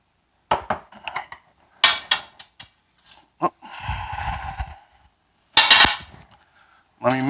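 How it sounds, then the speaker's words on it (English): Eggs whisked in a bowl for apple fritter batter: sharp clinks and taps of utensil on the bowl in short bursts, with a stretch of quieter swirling in between. "let me mix up my 2 eggs"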